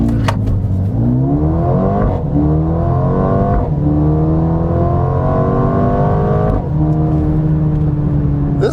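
A 2021 Mercedes-AMG A35 4Matic hot hatch accelerates hard in Sport Plus mode, its loud engine climbing in pitch through several gears, with a sharp drop at each upshift.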